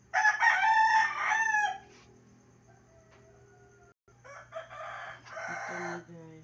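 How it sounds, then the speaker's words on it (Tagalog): A rooster crows loudly nearby at dawn, one long cock-a-doodle-doo, followed by another more distant crow and clucking from other chickens. "maraming manok kasi madaling araw pa"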